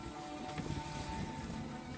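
Wind blows steadily over a sailboat at sea in a light force 3 breeze, a constant broad rushing hiss with low rumble and faint creaks, no voices.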